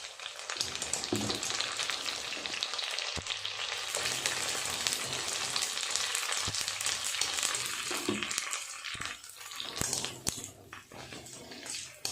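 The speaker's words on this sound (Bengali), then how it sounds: "খুব ভালো লাগছে ফুচকাগুলো এইভাবে ভাজতে।" Puchka shells deep-frying in hot oil give a steady, loud crackling sizzle throughout, with occasional sharper pops and a brief dip in intensity near the end.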